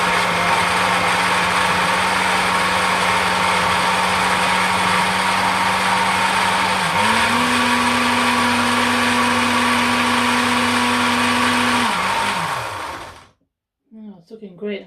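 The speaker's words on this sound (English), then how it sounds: "And then we can blend it." A kitchen blender blitzes food in one loud, steady whirring run with a brief pitch rise midway, then cuts out abruptly, followed by a moment of quiet and faint sounds.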